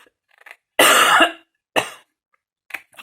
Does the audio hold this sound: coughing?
yes